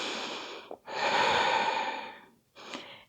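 Slow, deep breaths taken close to the microphone during a yoga pose: a brief sniff, then a long airy exhale, and another breath beginning after a short pause.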